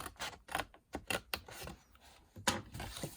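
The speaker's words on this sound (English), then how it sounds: "I'm going to cut straight up on both of these, so you end up with 3 tabs on the bottom" Scissors snip through cardstock to cut tabs for a gift bag, a close, quiet run of short crisp cuts and paper rustles in an uneven rhythm, with no talking.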